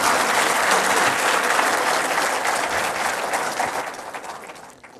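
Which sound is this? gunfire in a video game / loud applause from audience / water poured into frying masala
loud applause from audience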